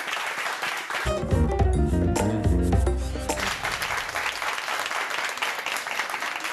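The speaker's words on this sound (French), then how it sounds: "Allez, on applaudit." Audience applause on a quiz game show, a burst of clapping joined by a loud musical sting, then sustained even applause continuing alone.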